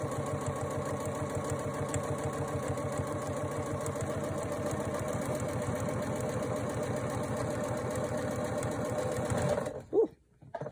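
Sewing machine stitching quilt block pieces, a steady fast whirring hum running close and unbroken for nearly ten seconds, then stopping abruptly as a short voice comes in.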